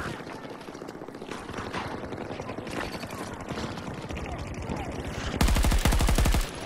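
Rapid automatic gunfire from an assault rifle in the shooter game Battlefield 2042, dense rattling bursts throughout, swelling to a louder close volley near the end, with faint talk underneath.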